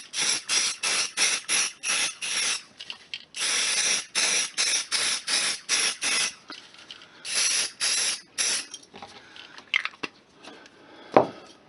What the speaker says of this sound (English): So what I'm going to do is put the release agent in now, before I mix up the rubber and before I forget.